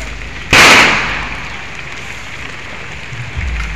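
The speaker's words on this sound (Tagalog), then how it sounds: "Yan, bali dito sila nagpaputok." A single loud firecracker bang goes off outdoors, a sharp close burst that fades into a drawn-out crackling decay, with a low thud near the end and no one speaking.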